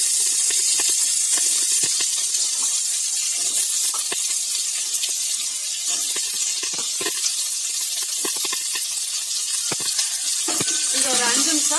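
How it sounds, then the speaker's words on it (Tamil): Green beans sautéing for beans masala in a pan give a steady loud sizzle and hiss throughout, with faint stirring scrapes. "இது ஒரு 5 நிமிஷம் கைவிடாம வதக்கிக்கணும்."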